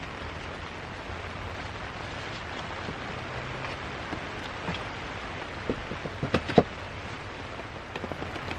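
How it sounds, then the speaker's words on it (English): Rain falling on a canvas shelter at a bushcraft camp, a steady soft hiss with a few sharper close drops and taps toward the end, no voices. "But it's raining"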